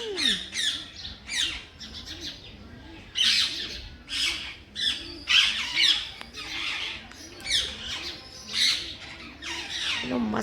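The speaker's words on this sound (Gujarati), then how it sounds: "4 ને 5 પોપટ છે." Several parrots squawk in repeated harsh bursts at a moderate distance, the calls coming in an irregular run over a low background hum with no talking.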